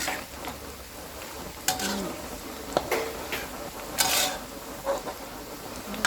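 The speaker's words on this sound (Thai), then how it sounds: "นี่เจียวกระเทียมเสร็จแล้ว" Garlic frying in a pan for a southern Thai sour curry, a steady light sizzle with scattered stirring scrapes and clinks of utensil on the pan, close up with no talking.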